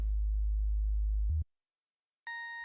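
A deep, steady synth sub-bass sine tone hums for over a second, then cuts off, followed by silence and a brief bright bell-like synth tone.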